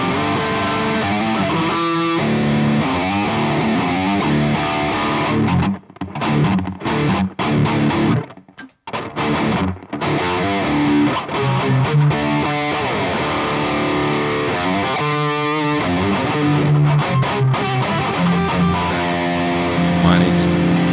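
A heavily distorted electric guitar through a Boss GT-1000 amp simulation and a Mackie ProFX12v3 mixer plays chords and riffs with an amp-like crunch, loud and continuous, with a few brief pauses partway through.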